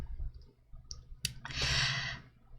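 Someone types on a computer keyboard, giving a few quiet scattered clicks followed by a brief, denser burst of keystrokes, close and soft.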